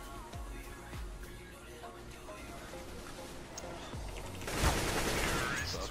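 Gunfire in a first-person shooter match, with scattered bursts of shots and a louder blast near the end, all sitting under an ongoing mix of game noise and players talking.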